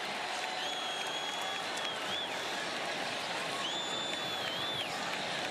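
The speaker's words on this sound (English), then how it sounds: "The crowd buzzing from that Keon Coleman catch" A college football stadium crowd at a Syracuse versus Florida State game buzzes and cheers in a steady roar after a catch, with a commentator's voice carrying over it.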